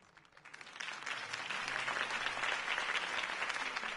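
A crowd at a Batman: The Telltale Series campaign rally bursts into sustained applause that builds after a quiet start and holds as a dense, even wash of clapping and cheering.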